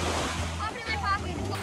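Big lake waves at Oval Beach, a steady broad rush of surf with wind, brief and fairly loud under a voice talking.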